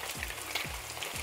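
Meatballs fry in a pan as they brown on all sides for a tomato-sauce dish, a steady soft sizzle with faint low thumps from turning, quiet and close, with no talk.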